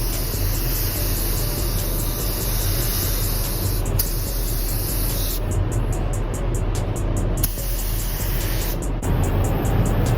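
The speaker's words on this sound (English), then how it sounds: "I'm going to spray 1 coat of clear on here." A spray gun lays a clear coat over painted chrome in a continuous hissing rush, steady and close, with a brief pause partway through.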